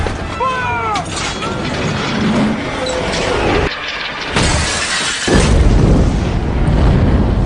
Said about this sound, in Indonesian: sebuah pelontar raksasa yang membuat ruangan Irwin hancur dan merusak semua koleksi barang